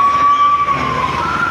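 An ambulance pulls up during a hospital fire-training drill, a steady siren-like tone holding over continuous engine and traffic rumble, close and fairly loud, with no talking.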